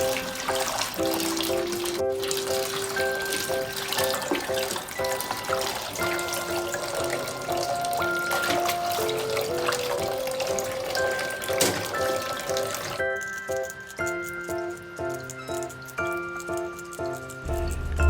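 A kitchen tap runs steadily while eggshells are rinsed, a continuous trickle and splash of water with light clinks, ending in a quieter stretch.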